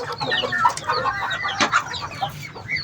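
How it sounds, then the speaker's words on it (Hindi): A red Chinese hen, an aged bird with rooster-like spurs, clucks in a busy yard amid other fowl chatter, a steady run of nearby clucks and squawks with no one speaking. "ये देखें हमारे पास याली माशाल्लाह एक लाल चीनी मुर्गी भी है हमारे पास"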